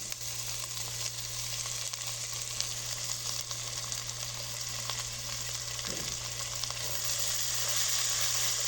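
Onion added to Tuscan sausage sizzles in a pan, a steady, even crackle of frying with a faint stir partway through and no talking.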